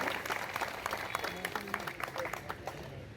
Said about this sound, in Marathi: आपण जोरदार टाळ्यांचा प्रतिसाद द्यायलाच पाहिजे